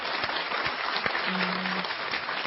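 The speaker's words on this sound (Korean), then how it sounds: "다시 한번 감사의 박수를 크게 보내드리고 싶습니다" A studio audience at a televised lecture on the habits of the wealthy gives a round of thanks, filling the moment with dense, even clapping heard at moderate distance, with a brief murmur of voices underneath.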